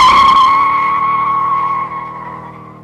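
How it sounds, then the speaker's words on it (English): Chevrolet C5 Corvette on a test track during a lap, with a loud sustained tire squeal and skidding under engine noise that slowly fades over a few seconds, with no talk. "The vehicle goes out for a lap on the track, works up quite a bit of energy in the vehicle"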